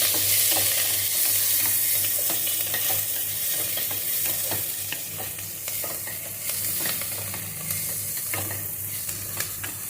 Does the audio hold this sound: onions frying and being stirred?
yes